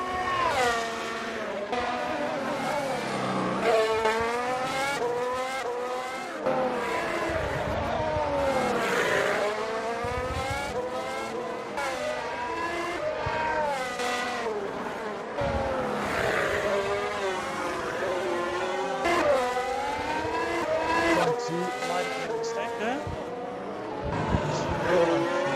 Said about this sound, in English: Jogsy is still catching up to that Team Brit car.